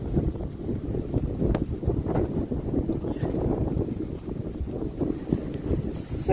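Strong outdoor wind buffets and roars across the microphone in continuous gusty rushes, loud and close, with no voices.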